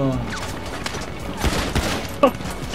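Gunfire in GTA V Online on PS4: a few scattered shots at middle distance, ending with one sharper, louder crack near the end.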